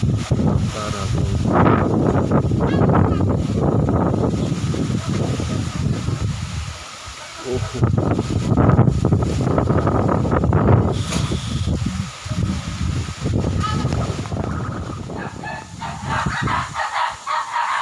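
Strong wind during a rainstorm that is toppling bamboo onto houses, a loud continuous gusting roar buffeting the microphone, with brief lulls and fowl calling faintly in the background.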